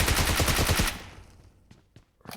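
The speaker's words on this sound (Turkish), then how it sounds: "Ben orada yere çökmesem o DP'nin mermilerini bizzat bana lıkır lıkır döşemişti." DP machine gun fire in the PUBG mobile game, a loud rapid burst of rounds for about a second, then fading echoes and a few sparse isolated shots, with no speech.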